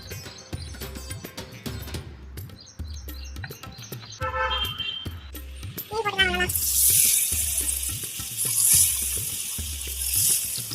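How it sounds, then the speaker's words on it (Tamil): Oil heating in a clay pot for frying fish, a soft hissing sizzle that swells in the second half, under a steady voice and rhythmic background thumps. "சட்டி வச்சாச்சுங்க, தீச்சு எண்ணெய் ஊற்றிக்கலாம்"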